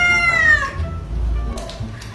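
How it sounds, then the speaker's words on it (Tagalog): A house cat meows in a drawn-out, falling cry that lasts about half a second, followed by a low rumble and a few faint clicks. "Ay! May pusa pala kayo?"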